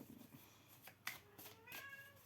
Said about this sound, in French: Il y a le chat qui miaule et qui veut rentrer.